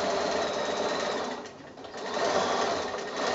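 A sewing machine stitches quilt binding, making a close, steady rapid mechanical chatter that briefly dips in loudness mid-way before resuming at full pace.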